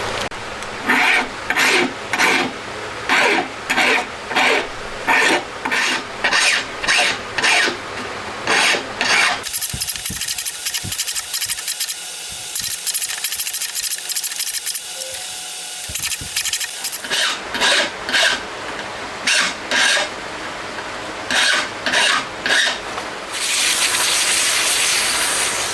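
Hand file rasping burrs off twelve freshly machined camshaft lobes for a 125cc twin-cam 16-valve four-cylinder engine, loud and close in quick rhythmic strokes, broken by a long continuous hiss and then more steady stroking.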